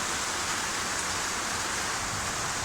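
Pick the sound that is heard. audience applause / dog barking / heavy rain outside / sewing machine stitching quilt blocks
heavy rain outside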